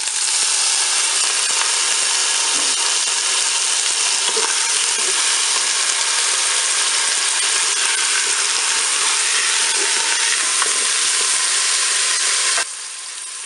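Onion pieces and a turkey roast fry in a Cookeo multicooker, a steady loud bright sizzle running almost unbroken, easing slightly near the end, with no voices.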